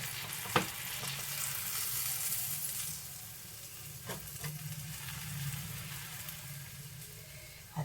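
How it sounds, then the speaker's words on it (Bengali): Bread toasting in a pan makes a soft, steady sizzle and frying hiss, fairly quiet and close, with a few light clicks and scrapes from handling and no voices. "এইখানে ব্রেডটাকে একটু সেঁকে নেবো এইভাবে"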